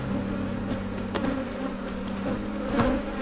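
Honey bees buzz steadily and densely around heavy, well-filled beehive boxes during a mid-May hive inspection, a close continuous hum with no voices.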